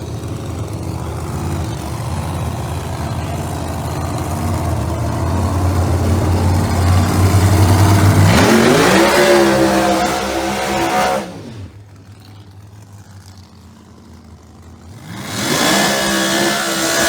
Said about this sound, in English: Both cars fired.